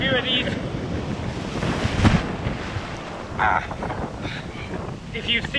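Big ocean waves crash and surge around a swimmer at sea, a loud continuous wash of surf buffeted by heavy wind noise on the microphone, with brief higher splashes.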